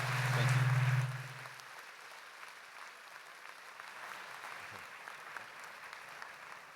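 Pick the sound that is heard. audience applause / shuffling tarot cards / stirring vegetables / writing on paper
audience applause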